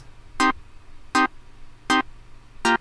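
A little blipping synth pattern plays alone, four short bright electronic blips evenly spaced about three-quarters of a second apart over a faint low hum.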